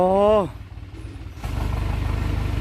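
A Ford 6640 tractor engine runs steadily in second gear while ploughing, a low rhythmic chug under a voice at the start, then the engine note picks up and grows louder for the final second.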